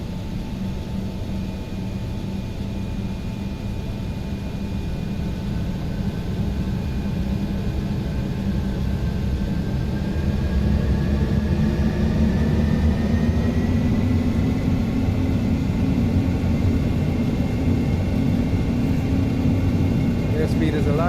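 Twin engines on an X-Crafts ERJ regional jet in X-Plane 12 spool up with a rising whine over a low rumble, growing louder and steadier as they come to power, with a voice talking over them.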